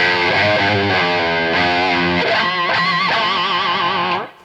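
A Gibson electric guitar played through its low-output P90 bridge pickup, with a driven, effected tone: a melodic run of sustained notes with vibrato and bends, steady and close, ending abruptly.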